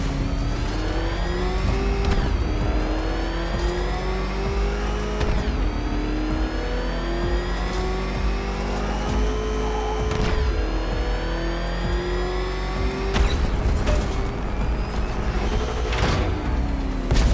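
A car engine in Batman Arkham Knight revs hard through repeated gear climbs, its pitch rising and then dropping back several times in a steady cycle, loud and close, with no talking.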